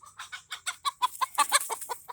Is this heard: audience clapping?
no